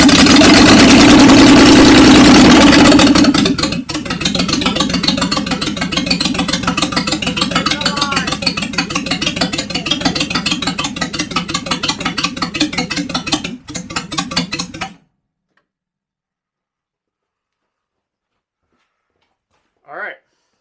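An old V12 Jaguar, fitted with a new engine, runs at a loud steady idle with a dense rumble. After about fifteen seconds it shuts off into silence, and a brief faint sound follows near the end.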